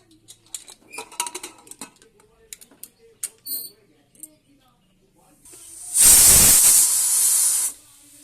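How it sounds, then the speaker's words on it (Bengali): A pressure cooker boiling masoor lentils lets out a loud, close burst of hissing steam lasting about two seconds, after a stretch of scattered light clicks and clatter. "তার জন্য আমি ডালটাকে প্রেসার কুকারে সিদ্ধ করে নেব"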